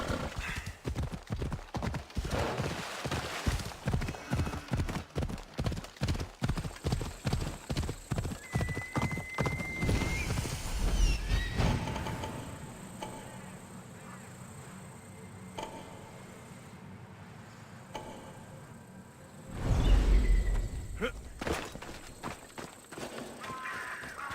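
A horse ridden in Assassin's Creed Odyssey, steady rhythmic hoofbeats of clip-clop galloping close up for about ten seconds, then slowing, with a loud whinny or snort near the end.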